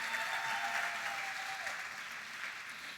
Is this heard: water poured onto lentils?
no